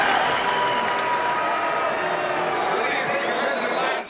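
Republican delegates at a Utah GOP convention loudly jeer a senator, a dense, sustained crowd roar with voices and scattered cries filling the whole stretch at steady high volume.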